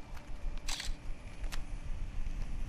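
Two crisp camera shutter clicks, one after another, as a photo is taken in the Far Cry 4 video game, heard over a low steady background rumble.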